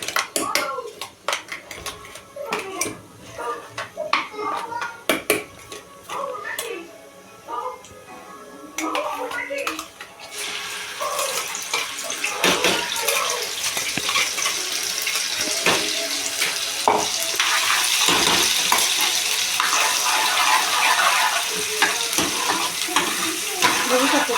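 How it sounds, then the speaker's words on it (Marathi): Clattering and stirring sounds give way to a loud, rising sizzle and crackle as a wet ground paste hits hot oil tempering for field bean curry, continuing strongly to the end. "आता या फोडणीत आपण हे वाटून टाकणार आहोत"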